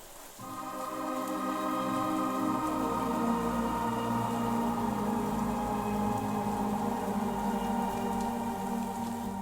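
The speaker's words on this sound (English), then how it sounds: "I do love having a little bit of rain in the background" Steady synthetic rain ambience from a free ambient music VST plugin, a constant patter of drops blended with sustained tonal pads, continuous and fairly loud for the whole stretch with no talking.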